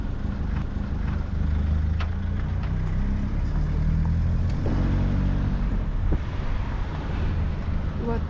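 A car rolls along a gravel cycle path among Tuscan olive groves, its engine a steady low rumble with tire crunch and wind noise throughout, loud and close, with faint voices now and then.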